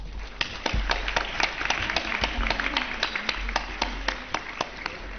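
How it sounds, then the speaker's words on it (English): An audience at a school event gives a round of applause, with a steady stream of distinct hand claps sounding fairly close and continuing without pause. "So give a huge round of applause once again"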